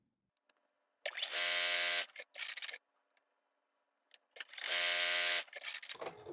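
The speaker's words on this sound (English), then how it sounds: "Just lining up the edges, sewing those together." A sewing machine stitching flannel fabric pieces together whirs in two short, close bursts of about a second each, separated by quiet pauses with faint handling clicks.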